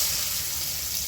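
Onions hitting hot oil in a kadai give a steady, close, bright sizzle that holds evenly throughout, with no voices.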